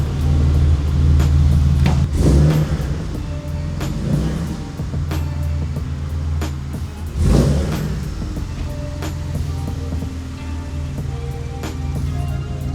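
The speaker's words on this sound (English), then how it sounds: "let's go ahead and hop in this thing and take it for its first drive" BMW E36 M3 on its first drive after a rebuild, with a low steady engine drone and road rumble inside the car and a couple of louder surges.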